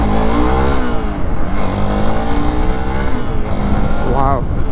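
Hero XPulse 200 adventure motorcycle pulling hard in first gear, its engine note rising loud and close with steady wind rush, while a rider's voice talks over it.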